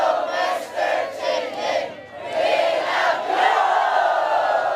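A crowd of volunteers cheering together in rhythmic rising shouts, repeated chant-like bursts that swell and fade, loud and close with many voices at once.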